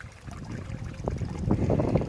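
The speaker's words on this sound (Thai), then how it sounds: "ลมแรงมากค่ะตอนนี้" Strong wind blowing outdoors across a garden with a small pond and waterfall, a steady rushing roar that builds toward the end, with gusty low rumble and watery trickling underneath.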